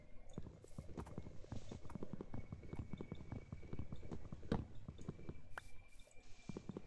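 A horse in the Minecraft video game moving about, giving a quick run of soft clip-clop hoof steps, close but faint, with a few small squishy clicks mixed in and no talking.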